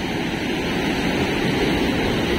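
Rough sea waves breaking on a shore at night during a coastal trip gathering crabs, heard as a dense, continuous roaring wash of surf with no breaks, loud and close, with no talk.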